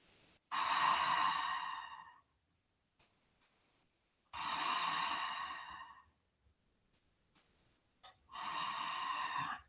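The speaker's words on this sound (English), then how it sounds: "Breathing." Slow, deep breaths during a yoga forward fold, three long airy exhalations that are close and clear with quiet pauses between them.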